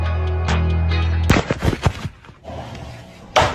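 Bullet shot through glass, heard from the inside: a sudden loud sharp crack after a steady tone, followed by a burst of crackling shatter and debris that fades, then another sharp hit near the end.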